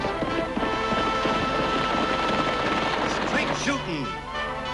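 Gunfire crackles amid galloping hooves and a swelling orchestral score in a western TV show about sharpshooter Annie Oakley, the shots dense and loud beneath the music, with a voice speaking over it.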